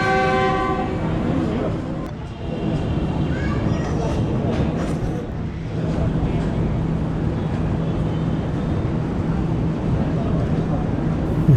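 Allama Iqbal Express passenger train pulling out of a station in Pakistan, with a steady heavy rumble of rolling wagons, a horn blast at the start and a busy, loud rail din throughout with talk mixed in.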